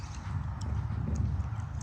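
A horse cantering during a dressage clinic, with steady rhythmic clip-clop of hooves on an arena surface, moderately close, with a few faint jingling tack sounds and no talking over it.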